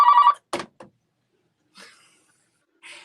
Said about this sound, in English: The phone has never rang while we're in the studio.